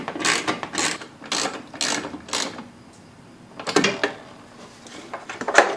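A hand ratchet drives the 3/8-inch screws holding a Jeep 4.0L washer fluid reservoir in place. It makes quick clicking runs in several close bursts, then a pause before a few more rapid strokes.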